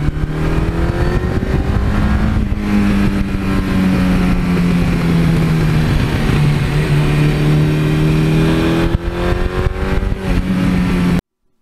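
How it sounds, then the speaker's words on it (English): A 1982 Suzuki GS1100E motorcycle with an aftermarket 86 exhaust system gives a loud, continuous engine note that rises and settles in pitch as the throttle changes, swells again near the end, then cuts off abruptly. "this bike has an 86 exhaust system that I think just has a wonderful exhaust note, especially when you back off the gas"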